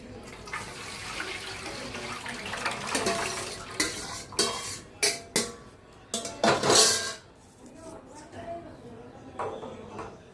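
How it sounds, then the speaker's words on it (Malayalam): Sago, boiled milk and cardamom poured into a pot of payasam, with clinks of a utensil against the pot, splashes and stirring, fairly close and moderate in volume. "ഇതിലേക്ക് നമ്മൾ ചവ്വരിയും പാലും കാച്ചി വെച്ചിരുന്ന ഏലക്കായും ഇട്ടത് ചേർക്കുകയാണ്"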